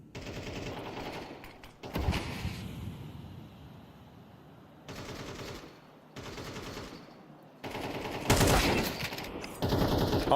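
Automatic rifle fire rattles in bursts during a Counter-Strike match, with rapid sprays broken by short pauses. It ranges from moderately loud to loud and plays without talk.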